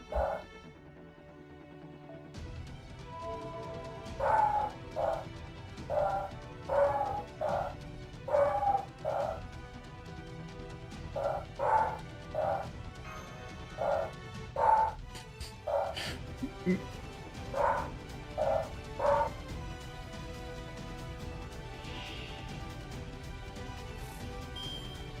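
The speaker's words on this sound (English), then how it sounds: "the dogs are barking" Dogs barking in repeated short bursts at a steady, moderate level across most of the stretch, heard in the background of a card game session.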